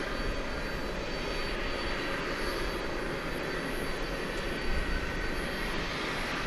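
An Embraer 175 airliner passing at DFW Airport at night, a steady, full jet engine roar that holds loud and even throughout with no talk.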